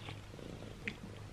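A cat purrs softly and close by in a brief, faint, low rumbling stretch.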